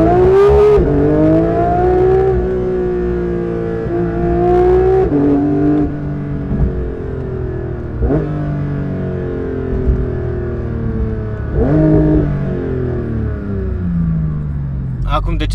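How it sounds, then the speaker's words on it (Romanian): A car engine revs repeatedly during a parked soundcheck, each rising roar climbing and dropping back in pitch over a steady idle rumble, loud and close. "era păcat să nu facem și un soundcheck dacă tot am apucat să mergem cu mașina"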